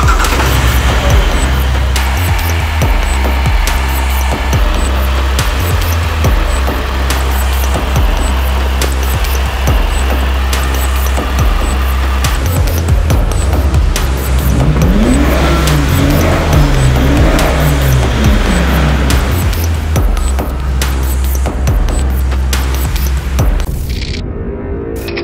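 An Alfa Romeo 159 is driven hard with its engine revving loudly and continuously for about 25 seconds; the pitch rises and falls in sweeping revs midway, and the car is heard close up with no talking.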